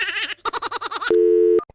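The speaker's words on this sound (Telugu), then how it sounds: "ఈ ఆతిగాడు ఫోన్ లేపడతాడేంద్రా, పొద్దుగాల నుంచి చేస్తున్నా." An unanswered phone call: a short series of rapid warbling electronic pulses, then a loud steady tone held for about half a second that cuts off suddenly, with a couple of brief clicks after it.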